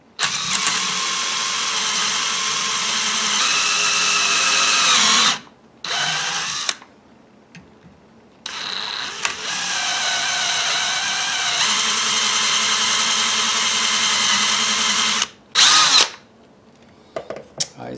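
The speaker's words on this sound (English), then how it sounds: "the drill has been cutting into the metal a bit" A power drill whines loudly and steadily, grinding into the metal of a Type 81 Dragunov rifle stock, with brief pauses where the motor stops and restarts before running on again.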